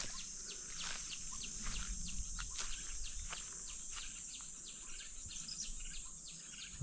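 A common hawk-cuckoo calls from a mango tree near a house under construction, its repeated faint notes carried over a steady chorus of insects and other birds.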